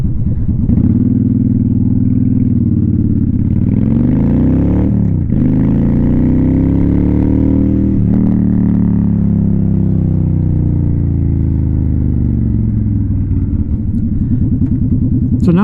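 A Honda Shadow 750 with a sissy bar rumbles loudly and close throughout the ride, its engine note rising and falling through several gear changes and shifts in throttle.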